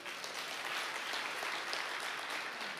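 Audience at a church talk by a pastor breaks into steady, dense applause, a continuous wash of clapping holding at even loudness throughout with no voices over it.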